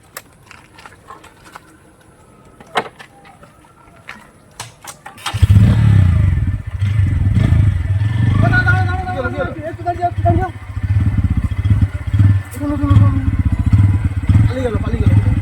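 A motorcycle engine starts abruptly after a quiet stretch, then holds a loud, steady rumble as the bike rides off, with people talking over it.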